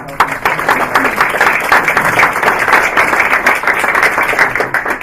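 An audience at a science communications summit gives a sustained round of applause, dense and steady for the full stretch, loud and close with many hands clapping at once.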